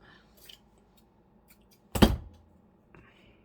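Scissors cut paper for a soft-cover junk journal, giving one sharp, loud snip near the middle. Fainter rustles and small clicks come before and after it in an otherwise quiet room.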